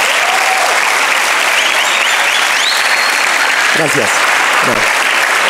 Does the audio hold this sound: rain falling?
no